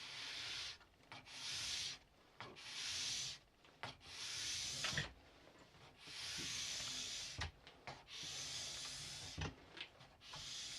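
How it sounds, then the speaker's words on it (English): Sharp steel scraper drawn repeatedly across a deeply stone-ground ski base, each long hissing stroke separated by short pauses in a steady back-and-forth rhythm, close and moderately quiet with no voices. "Scraper's pretty sharp, so I'm not having to press too hard."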